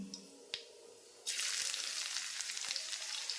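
Cumin seeds, ginger and garlic hit hot oil in a pan while pasta is being cooked, bursting into a loud, steady sizzle after a couple of soft clicks and continuing close and bright to the end.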